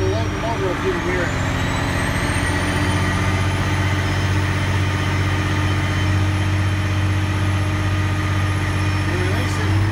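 A 1977 Peterbilt 359 truck engine runs at about 2,000 rpm with a steady heavy drone, loaded by a brake saver, loud and constant under a man's speech.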